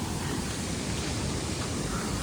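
Cyclone flood water rushes under a bridge over the Akeru Vagu stream, a steady, loud broadband roar with no break and no voices.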